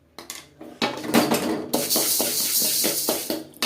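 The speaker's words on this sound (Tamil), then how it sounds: "நல்லா வறுத்துடுச்சு. பொரிக்கிற சவுண்டு கேட்குது." Lentils and horse gram dry-roast in a pan for idli podi, giving close, busy crackling and popping with scraping stirs and a bright sizzling hiss that swells after the first second.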